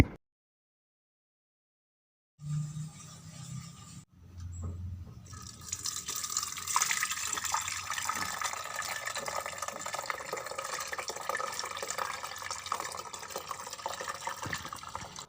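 Freshly boiled caramel chai tea is strained and poured after a silent start, a steady close trickle of liquid running on with small splashes and no talking.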